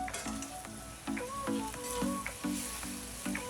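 A spoon stirs mung bean stew with chicken in a pan in a regular rhythm of about eight knocks and scrapes, over a continuous sizzle with a faint tonal hum in the background.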